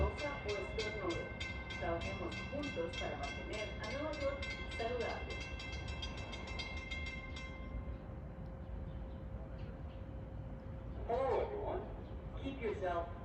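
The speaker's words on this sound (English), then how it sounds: "about to arrive in the Seacliff is train 552 en route from Jamaica to Oyster Bay" Train 552 from Jamaica to Oyster Bay pulls into Seacliff station while the crossing gates on Seacliff Avenue are down. Loud horn blasts open it, a low rumble follows and fades, and another brief horn sounds near the end.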